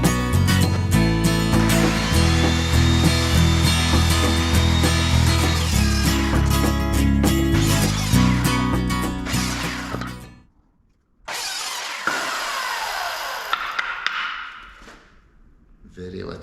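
A power saw cutting wood for a shed build, loud and close with a strong steady motor whine that cuts out abruptly near the end, then restarts briefly and winds down.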